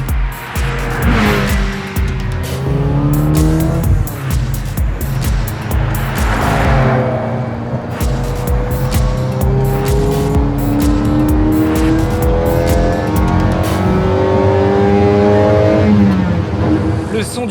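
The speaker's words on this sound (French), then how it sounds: "Le ronronnement du V8 est une thérapie à lui tout seul." A Ferrari Mondial T Cabriolet's V8 engine roars loudly and continuously, its pitch climbing and dropping as it revs through gears, close and dominant throughout.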